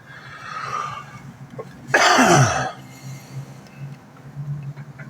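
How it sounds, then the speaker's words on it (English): A single harsh, dry cough bursts out once, loud and close, amid quiet background sounds. "Yeah, I'm trying to get rid of this cough."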